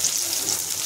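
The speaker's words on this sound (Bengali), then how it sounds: "এখানে আমার পকোড়াও ভাজা হচ্ছে।" Tomato, capsicum and green chilli pakoras frying in hot oil, giving a steady, close, even sizzle with no talk over it.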